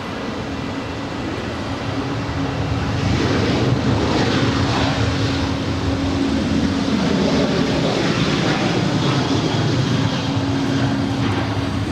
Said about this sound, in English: This is Southwest 2906 departing to El Paso. It's a 14-year-old 737-700